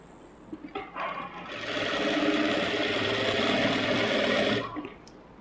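A sewing machine runs a steady stitching burst across a blouse seam. A few short taps come first, then a sustained mechanical whir that stops abruptly near the end.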